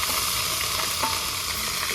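Ground ginger, garlic and chili paste frying in a pan for a pork curry, giving a dense, steady sizzle that stays close and loud the whole time with no voices.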